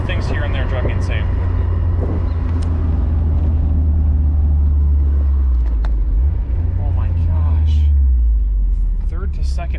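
A Mazda Miata with a newly swapped transmission and clutch, its engine droning low and loud as it drives and drops from third to second, revs sweeping up then falling, with a person talking over the cabin noise.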